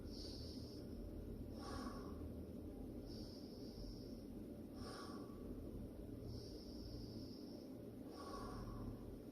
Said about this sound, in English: You're going to cycle breaths in through the nose and out through the mouth.